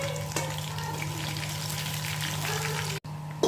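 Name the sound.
fish frying in hot oil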